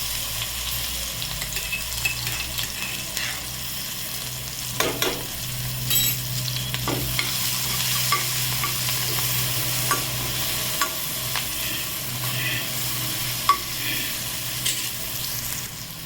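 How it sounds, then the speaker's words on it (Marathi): Garlic and green chillies frying in hot oil in a kadhai: a loud, continuous crackling sizzle with occasional spatula scrapes and taps, close up, no voices. "1 ते 2 चमच तेल गरम झालेलं आहे. मिरची हे याच्यात टाकून घ्यायचं"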